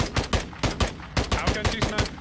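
Gunfire in the video game Warzone comes as a rapid string of loud, sharp bursts, roughly a dozen distinct shots in quick succession, close and dominant with no talk over them.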